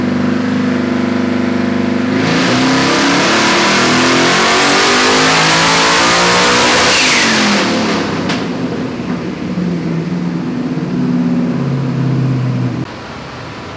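A twin-turbo LS-swapped Ford Fairmont on Holley EFI revs hard on a run. The loud engine climbs steeply in pitch, holds at high revs, then drops back to a rough idle before cutting off.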